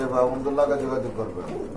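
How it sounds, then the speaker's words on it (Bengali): Soft, low pigeon cooing runs through the clip while someone talks over it. "খুবই চমৎকার এক জোড়া কবুতর"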